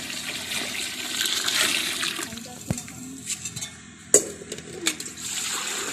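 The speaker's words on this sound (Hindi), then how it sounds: "अभी हम इसमें पानी डालने लगे हैं अभी।" Water poured into a cooking pot of roasted chickpeas on the stove, a rushing pour with splashes and clinks of the pot, moderately loud and close, with no speech.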